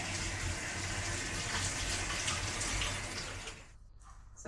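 Steady broadband rush of warm water pouring continuously for bread dough, close and fairly loud, stopping abruptly near the end with a drip or clink.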